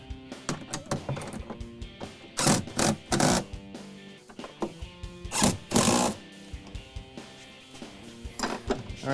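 Bolts being tightened to mount MAXTRAX recovery boards on a Cargo Pod XL on a Ram adventure build, heard as a string of close ratcheting clicks and rattling bursts with short pauses between them.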